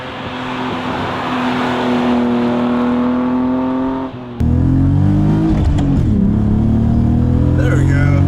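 A BMW E36 drift car with a garage-built exhaust rumbles loudly up close. The engine climbs steadily in pitch through a gear, cuts briefly at a shift, then drones on hard with a deep, raspy tone.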